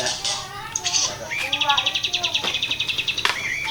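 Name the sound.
noisy birds chirping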